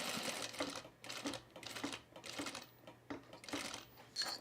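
A home sewing machine stitches Creston jean shorts in rapid bursts, each run of needle hammering broken by short pauses, close and steady, with no voices.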